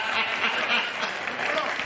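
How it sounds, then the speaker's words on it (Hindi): Audience applause at a Hindi kavi sammelan, a continuous wash of many people clapping, fairly loud and even, with a voice talking over it. "कविता की अंतिम पंक्तियां सार्थक को पीछे तक तालियों से विदा करना"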